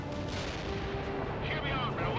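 Artillery fire in the strategy video game World in Conflict, a dense rumbling barrage of booms and crackles under game voices, with a faint tone running through it.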